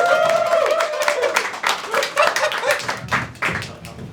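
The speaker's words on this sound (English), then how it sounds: "You can keep clapping, I'm just setting up." Audience clapping at a comedy show as a comic takes the stage, scattered claps and taps fading unevenly, with a voice and cheers mixed in and a few thumps near the end.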